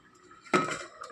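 A single metallic clank sounds as a pot lid is lifted from a simmering kovakka manga curry, a short close clatter with a faint trailing ring.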